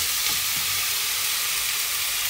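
Tomatoes and onions sauté in a hot pan for a sinigang with spare ribs, giving a loud, steady sizzle and hiss with a few brief stirring scrapes, no voices.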